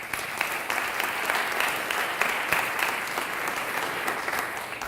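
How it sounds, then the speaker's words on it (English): A crowd at an evening sponsor event for MITEF San Diego claps steadily, dense applause holding at an even level throughout with no voices rising above it. "Please give them a round of applause for their efforts."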